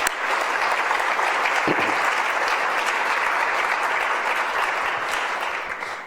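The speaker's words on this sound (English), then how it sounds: "A round of applause for those two leaders." Loud, dense applause fills a ceremony hall for two award recipients at an awards event, a sustained crowd of clapping that tapers off at the end, with no talk.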